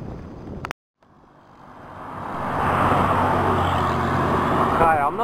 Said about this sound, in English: a lot of traffic, and there's a lot of wind.